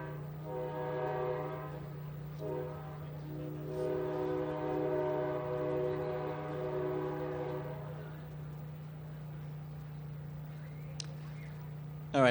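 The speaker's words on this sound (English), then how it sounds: "Why don't you wait till the train passes, because I don't think they could hear you." A long train passes near an outdoor book festival in Gaithersburg, with a steady low rumble and layered horn-like tones that swell and fade over several seconds, plus faint talk in the background.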